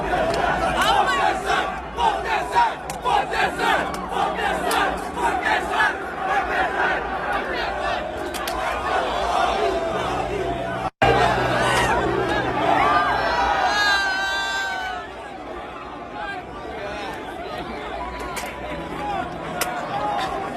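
A packed concert crowd at the Astroworld festival shouts and yells while people mosh, a loud, continuous roar of voices with rising cries. Chatter and talk run through it.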